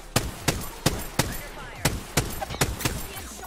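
Sharp, punchy gunfire rings out at a steady rhythm in the Apex Legends video game, about ten evenly spaced loud shots, each with a short echoing tail.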